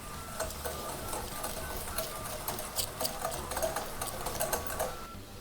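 Steady whirring electric mixer motor blending a milk, sugar and milk powder ice cream mixture, with a rapid rattling, ticking texture throughout, close and continuous with no talking.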